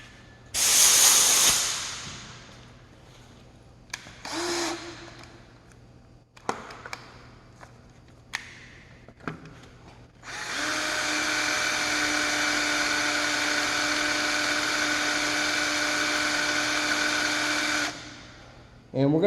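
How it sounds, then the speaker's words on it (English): A high-pitched power drill drilling out a broken screw whines in short bursts, then runs steadily for several seconds close by, with a few quiet clicks and handling sounds between. "we're going to continue drilling this and getting down in there"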